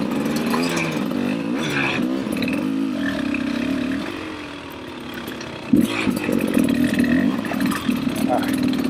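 A Beta 300 RR Race Edition two-stroke dirt bike engine running in third gear, steady buzzing drone that dips briefly then revs back up, close, with a rider talking over it.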